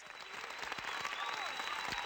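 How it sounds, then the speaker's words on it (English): Crowd applause in a 3DO video game, a steady wash of clapping that runs the whole time, fairly quiet and with no talk over it. "They're clapping for me now, guys."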